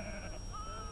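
A sheep bleats in a short wavering cry, heard fairly close over a dull, noisy background, with no talking.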